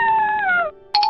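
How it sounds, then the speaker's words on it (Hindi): A drawn-out wailing fox cry, in pain from crows attacking it, that slides downward, breaks off, then resumes in a higher strained yelp; loud and close. "लोमड़ी को कौवों की मार से दर्द हुआ और वो चिल्लाने लगी।"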